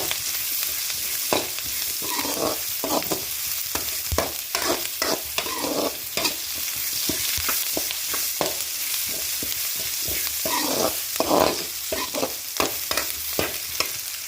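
Mutton curry masala browning in a pan, with a spatula scraping and stirring in a steady, repeated rhythm over a continuous close sizzle, no voices.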